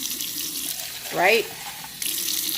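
Warm water from a kitchen sink tap runs into a cup, a steady splashing stream with a brief rising filling tone, while a person speaks briefly.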